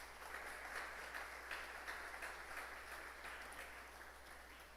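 Congregation applause in a church worship service, a steady faint wash of many hands clapping with no voices, continuing evenly throughout.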